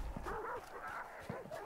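Dogs in the video game Hunt: Showdown give a run of short, repeated yips and whining barks, moderately faint, with voices faintly mixed in.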